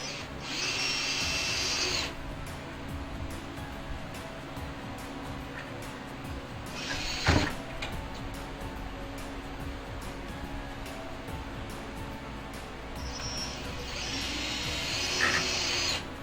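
A power drill driving self-drilling deck screws whirs in steady bursts, starting and stopping at close range, with a sharp knock in the middle.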